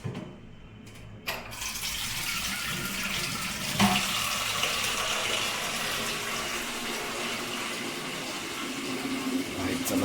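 Water pours from a tap to fill a bath. After a brief quiet start, a close, steady gush begins and keeps running evenly to the end.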